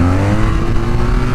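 A tuned 2023 BMW R nineT motorcycle engine revs hard in first gear with traction control off for a power wheelie, a loud, close, steady roar with a strong low rumble throughout.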